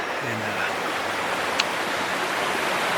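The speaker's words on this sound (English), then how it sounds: "cedar trees all around me, the sun peeking through the trees, Rollins Creek going by" Rollins Creek flows through cedar woods, giving a constant close wash of rushing water with no breaks, steady and moderately loud, with no voices.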